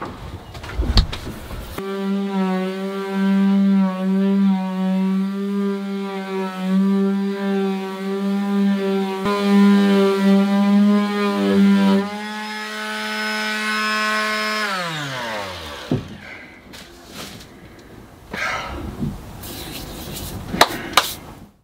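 An electric sander works the bedroom ceiling of a narrowboat under renovation. Its steady, loud motor whine holds for about twelve seconds, then winds down in pitch, leaving quieter scraping and handling noises.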